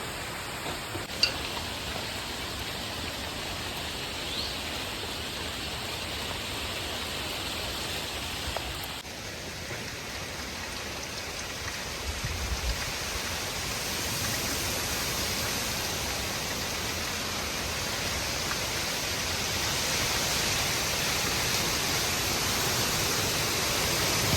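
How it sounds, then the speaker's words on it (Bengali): Strong storm wind blows outside, heard from indoors as a constant broad rushing hiss that builds gradually in strength. "যত বেলা গড়াচ্ছে তত আরও বেশি মানে হাওয়ার বেগটা তত বেশি হচ্ছে"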